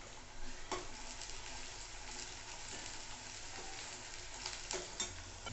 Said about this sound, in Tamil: செவக்கிற வரைக்கும் வதக்கிக்கலாம்.